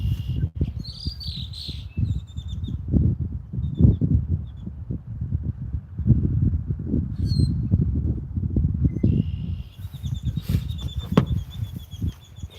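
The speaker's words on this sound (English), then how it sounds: "Hear those birds? They're singing up there." Small birds sing and chirp in trees above a lagoon, bright high calls coming in bursts, some nearer and some farther off, over a steady rumbling outdoor background.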